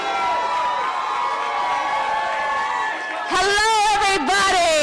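A crowd cheers and applauds at a cannabis rally as a candidate for New York governor is introduced, a burst of loud shouting and clapping rising suddenly near the end after a stretch of amplified talk over background noise.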